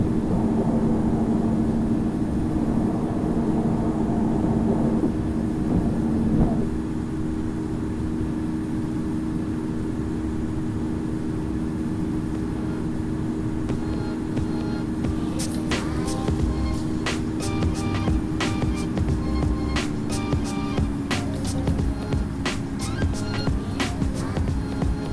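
A Copa Airlines Boeing 737-800 climbs after takeoff, with a continuous loud engine drone and cabin rumble throughout and steady tonal hums, and faint clicks and rattles toward the end.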